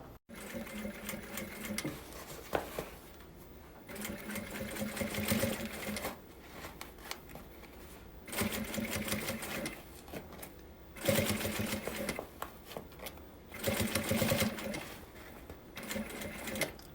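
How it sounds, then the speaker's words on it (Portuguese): A domestic sewing machine stitches around a fabric circle in bursts, each run a rapid, steady mechanical chatter lasting a couple of seconds, separated by short pauses while the fabric is repositioned, close and without talking. "agora eu vou passar uma costurinha, prendendo todo mundo, de uma marcação até outra"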